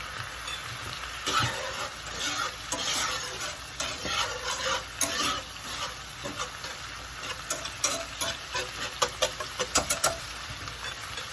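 Wine reducing in a hot pan during pan sauce making, a steady bubbling sizzle with frequent spoon stirring and scraping, close and continuous, growing busier toward the end.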